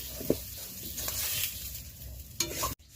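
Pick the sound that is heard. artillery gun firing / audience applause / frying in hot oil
frying in hot oil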